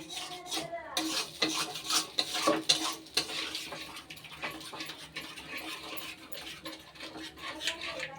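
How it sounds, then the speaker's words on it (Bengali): Yogurt is stirred into spice paste in a pan over low heat, with rapid, close scraping and clattering of a spoon against the metal and a faint sizzle beneath, busiest early on and then gentler. "দিয়ে খুব ভালোভাবে মশলার সাথে দইটা মিশিয়ে নেব"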